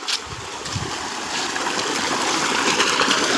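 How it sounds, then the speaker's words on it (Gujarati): Irrigation water flows steadily through a castor field with a continuous broadband rushing and trickling, close and even, without speech. "આ એરંડાની અંદર પાણી ચાલુ છે"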